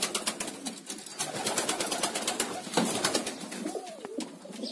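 Pigeons on a hot day coo and rustle close by, a soft burbling call rising over repeated wing flaps and light fluttering, with no one speaking.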